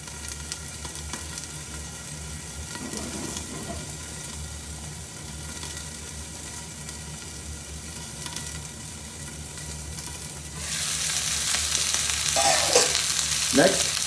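Gurnard fish and bulgur cooking in a covered pan give off a continuous close sizzle and crackle, holding steady before swelling louder and brighter near the end.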